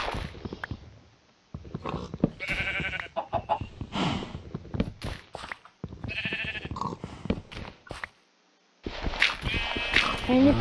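Cows moo in Minecraft, several separate low calls spread across a stretch of blocky game ambience, with brief gaps of near silence and some voice in the background.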